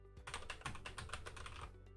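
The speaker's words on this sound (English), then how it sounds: "Oh, I'm just not typing correctly." Rapid keystrokes on a computer keyboard during a coding session, a steady close run of clicks lasting most of the two seconds before trailing off.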